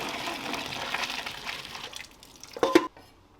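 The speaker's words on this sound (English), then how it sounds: "Water's boiling and it's time to add our pasta." A pot of water at a rolling boil for cooking pasta, with a soft, steady bubbling and gushing that thins out, then a brief louder splash and slosh before it goes quiet.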